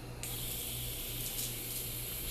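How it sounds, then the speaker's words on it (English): Saline solution sprayed from a pump bottle onto a cotton swab for piercing aftercare gives a steady, close, airy hiss that starts abruptly and runs unbroken to the end. "Spraying the solution onto a Q-tip and rubbing it around your new piercing"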